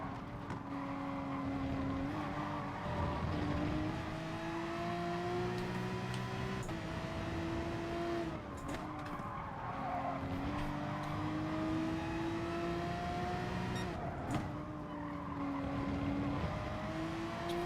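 A Porsche race car in a racing video game holds a constant engine whine, its pitch climbing through gears and dipping at shifts, with other cars faintly nearby, moderately loud and without talk.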